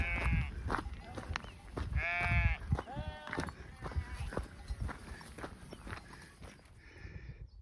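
Several sheep on a snowy mountain trail bleat nearby in loud wavering cries, with shuffling hooves and movement in between calls.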